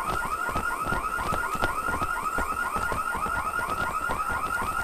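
An alarm blares in the shooter game IGI 2 at a guarded villa, a loud, rapidly repeating warbling electronic tone that continues unbroken with no talk.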